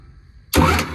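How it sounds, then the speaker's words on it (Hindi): A homemade tractor engine starts suddenly after a quiet, faint hum, jumping into a loud, close, rough running roar that holds steady. "ये देखो भाई यो ऑटोमेटिक ट्रैक्टर स्टार्ट"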